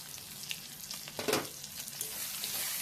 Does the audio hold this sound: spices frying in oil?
yes